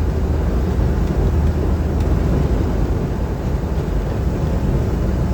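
A Jeep CJ7 cruising on a highway at about 60 miles an hour, a loud, steady broadband roar of engine, road and wind noise that stays constant throughout, with no talk.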